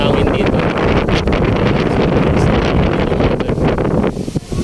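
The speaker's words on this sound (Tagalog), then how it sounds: "Kaya kung makikita nyo naman kung gaano kalakas yung hangin" Strong wind buffets the microphone outdoors where balloons are tied to a fence, a loud, continuous roaring rush that dips briefly near the end, with no voices.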